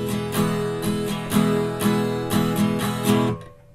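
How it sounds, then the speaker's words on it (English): An acoustic guitar is strummed in a steady, brisk rhythm of repeated down-and-up strokes, playing the chords of a song, close and clear, ending with the chord fading out. "The acoustic guitar just kind of strumming that."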